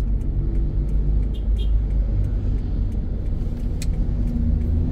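A motorized tricycle rumbles steadily along a street in Taytay, Rizal, its mid-pitched engine drone close and continuous, blending with surrounding traffic noise and no talk.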